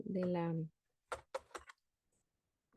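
A few quick, crisp key clicks from a computer keyboard with a dead battery, tapped in a short cluster in an otherwise quiet room after a voice speaks briefly.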